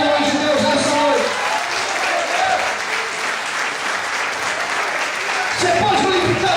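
A church congregation applauds during an evening service, a full, sustained burst of clapping that fills the room steadily from start to finish.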